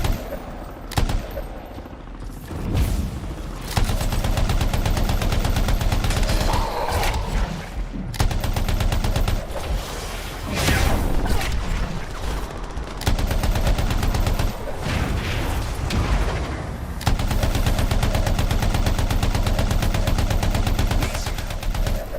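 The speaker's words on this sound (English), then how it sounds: "Why are all the snipers shooting at me, man?" Gunfire in the video game Anthem as snipers fire, bursts of rapid shots and heavy blasts coming in waves with brief lulls, loud and close throughout.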